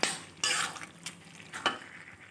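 Fried bottle gourd fritters stirred together with cooked bottle gourd in a pan, quiet sizzling interrupted by a few brisk scraping strokes of a spatula against the pan, close up with no voices.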